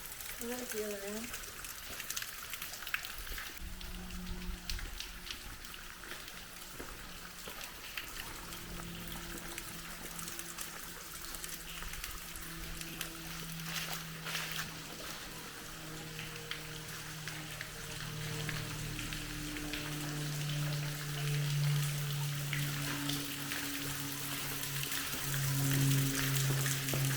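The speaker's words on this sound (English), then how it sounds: "Look at the seepage of the water." Water seeps and trickles inside the damp Blue Ridge railroad tunnel near Afton, Virginia, a steady wet hiss with a pouring, dribbling quality that grows louder toward the end, while a voice talks over it.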